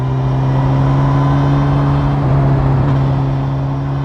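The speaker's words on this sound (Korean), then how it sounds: "GSX-S 1000은 RPM 초반부터 중간 영역까지 배기음이 좋아서 꽤 즐거움을 주네요." A second-generation Suzuki GSX-S1000 motorcycle with the K5 engine accelerates, its exhaust giving a loud, steady drone that rises slightly in pitch through the low-to-mid rev range, close and continuous with no talking.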